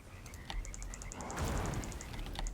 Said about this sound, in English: Got your frogs out? Oh, they're already ribbiting.